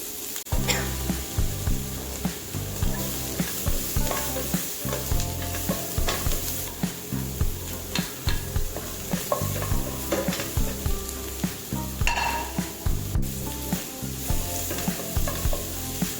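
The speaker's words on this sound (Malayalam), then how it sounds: "ഇനി ഒരു വലിയ സവോള, കറിവേപ്പില, ആവശ്യത്തിന് ഉപ്പ് എന്നിവ ചേർത്ത് നന്നായി ഇളക്കുക." Onion and curry leaves are stirred in a frying pan, a steady sizzle broken by repeated scraping strokes of a spoon, close and continuous, with no talking.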